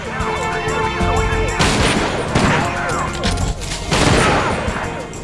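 Loud, dense volleys of gunfire in a Dreamcast shooting-gallery game, crackling bursts that rise and fall over a busy background of game sound and music, with some talking faintly under it.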